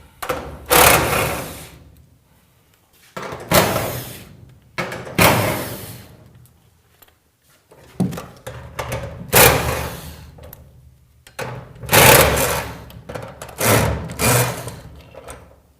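Hinges being undone on a garage door panel, heard as repeated bursts of a power tool whirring, each lasting about a second with short quiet gaps between, close and fairly loud, with no talking.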